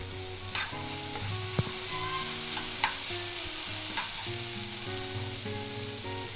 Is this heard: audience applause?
no